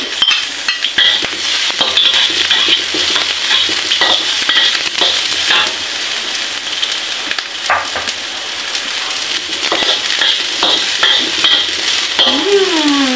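Ginger, garlic and onions sautéing in a pan, a loud continuous sizzle close up with repeated scraping and clinking of a utensil stirring, steady throughout.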